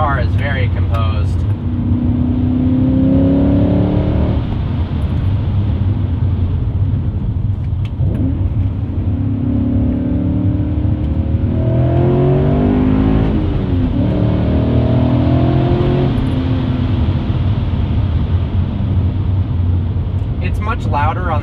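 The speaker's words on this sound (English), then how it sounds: "Much louder on the outside with the muffler delete than it is inside the cabin." BMW E39 M5 V8 with muffler delete, heard from inside the cabin: a steady engine drone rising and falling through turns, with someone talking over it throughout.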